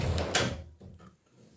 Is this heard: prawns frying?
no